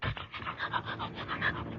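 A dog pants quickly and steadily nearby, a rhythmic run of short breathy huffs at moderate volume with no talk over it.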